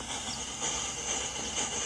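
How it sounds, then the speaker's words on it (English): A train in an open-world Western video game, heard as a steady hiss and rumble of rolling railcars at moderate loudness, a continuous wash of noise with no talking. "The train just stopped."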